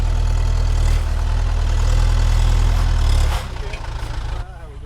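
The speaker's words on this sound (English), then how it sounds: "we can get the tractor with the forks" The engine of a tractor with forks idles in a heavy, low rumble close by, then drops to a quieter throb partway through, with voices heard over it.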